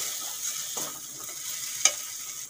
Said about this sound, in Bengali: এখন দিয়ে দেব লঙ্কা গুঁড়ো, হলুদ গুঁড়ো, ধনে গুঁড়ো, জিরে গুঁড়ো, সব দিয়ে ভালো করে ভেজে নেব।